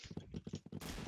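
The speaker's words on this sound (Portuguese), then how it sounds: "Oh, não, tá atirando no chão, é o cara ali atirando no chão" A video game player fires a quick string of shots into the ground, around half a dozen rapid muffled bangs in about a second, fairly faint, followed by a brighter burst of noise.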